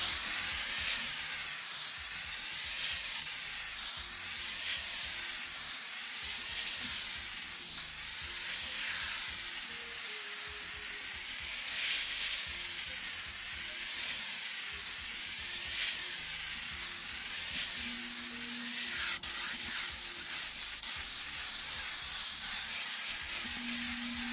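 An airbrush lays down a heavy coat of transparent yellow paint in a steady, unbroken hiss of spray that runs close and even throughout, without pauses and with no voices.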